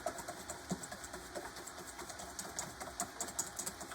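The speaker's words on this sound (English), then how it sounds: "I'm just gonna whisk these where they're all frothy and broke up" Eggs whisked in a bowl until frothy for a breakfast casserole, a quick steady run of light clicks and taps from the whisk, moderately close with no talking.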